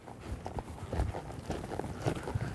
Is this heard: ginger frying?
no